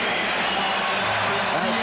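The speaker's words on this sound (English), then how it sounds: "Standing ovation from this crowd at the United Center." A basketball crowd at the United Center rises in a standing ovation, a dense wash of applause and cheering under a commentator's voice.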